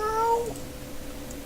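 A short, high, sliding meow from a wolverine-like cat creature in the early-2000s online game Ryzom, one clear cry that fades into quiet game ambience.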